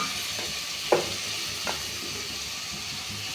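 Tomato sautéing in a pan gives a steady sizzle throughout, punctuated by two soft stirring scrapes, with no voices.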